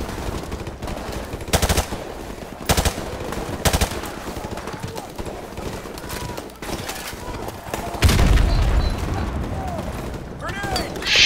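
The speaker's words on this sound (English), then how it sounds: "that was a good grenade" Rapid automatic gunfire rattles in a Call of Duty: Modern Warfare Remastered battle, with sharp bursts and a heavier grenade blast near the end, all loud and close with chaotic combat noise between shots.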